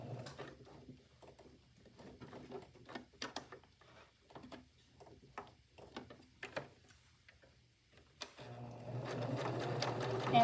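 A sewing machine stitches lace onto a flag appliqué in quick bursts of close, rhythmic ticking needle strokes with short pauses between, then a steadier, louder run near the end.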